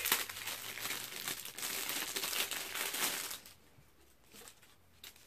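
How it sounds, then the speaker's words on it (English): Plastic bag crinkling and rustling while being handled during an unboxing of a monthly witch-themed subscription box, busy and close for about three seconds, then quieter with sparse crackles. "Oh, inside is a plastic bag."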